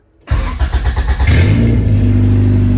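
Race car engine cranks and catches, then revs in a quick rough burst of throttle blips before settling into a loud, steady idle close by, after a fix for a MAP sensor issue.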